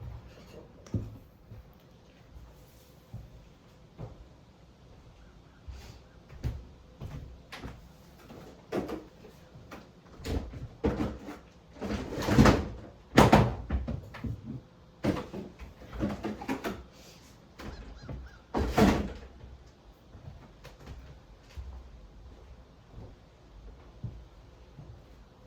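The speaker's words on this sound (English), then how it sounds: "The door was driving me kind of crazy." Indoors, a door is handled with a run of knocks, clicks and rattles. The sharpest bangs cluster near the middle, set against a quiet room.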